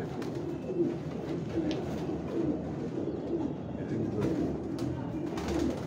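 Rooftop loft pigeons, including a red Lal Badshah, give a steady, low, throaty cooing that repeats through the whole stretch, close by under faint background murmur.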